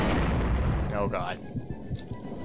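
Stormtroopers fire blasters in the Star Wars: Dark Forces video game, a loud barrage of booming shots and impacts, with a player briefly exclaiming over them.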